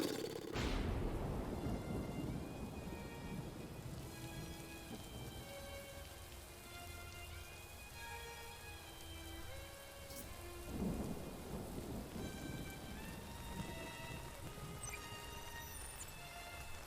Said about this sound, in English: He even stopped the rain?